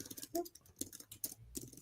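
Irregular keyboard typing from a coding session, with quick soft clicks in uneven bursts, close and fairly quiet, with no talk over it.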